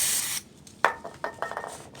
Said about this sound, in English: So what you want to do is just spray it.